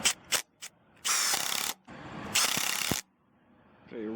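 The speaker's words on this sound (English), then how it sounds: "So we got some standard 2-inch construction screws. This is on high mode." Brushless impact driver set to high mode drives standard 2-inch construction screws: two long, loud rattling hammering bursts, each lasting about half a second, with a few short clicks before them and a brief whir at the end.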